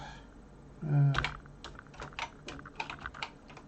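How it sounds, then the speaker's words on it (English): A BBC Micro Model B keyboard is typed on, with a sharp key clack after a short low thump, followed by a quick irregular run of lighter keystrokes, close and alone. "type another key to the left"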